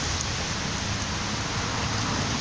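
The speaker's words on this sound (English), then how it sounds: "It's a rainy day in Georgia." Steady rain falls on a rainy day in Georgia, a dense, even hiss of drops on surfaces that stays close and constant, with no voices.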